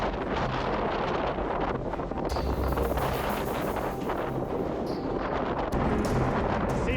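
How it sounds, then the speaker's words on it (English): Strong wind gusts sweep across open water around a moored boat ahead of Hurricane Helene, roaring steadily and buffeting the microphone throughout, with no voices. "See the gusts of wind as they run across the water."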